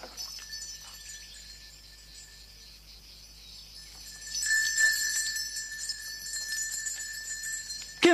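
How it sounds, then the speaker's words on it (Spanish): Small bells tinkle and jingle softly, with a steady high ringing tone running through and a brighter, busier cluster of chimes in the second half, fairly close and with no voices over it. "¿Qué vamos a hacer con estas campanillas?"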